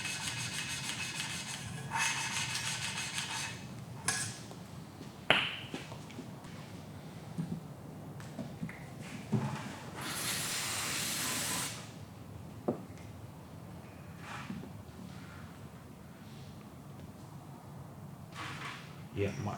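An engine valve is lapped by hand into its valve seat: soft, rhythmic grinding and rubbing strokes repeat close by, with a longer scraping burst midway and light knocks between strokes.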